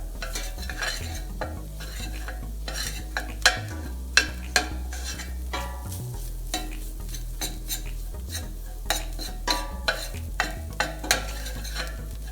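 Roux of flour and fat stirred in a Cuisinart pasta pot, a spoon scraping and tapping the metal in an irregular rhythm over a low steady hum, with sharper clicks as the stirring quickens, close up and without speech.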